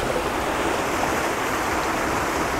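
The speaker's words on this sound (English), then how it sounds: "Babbling waterfall and brook." Babbling waterfall and brook in a Cheviot valley: a steady, close rush of splashing water fills the whole stretch, loud and unbroken with no voices.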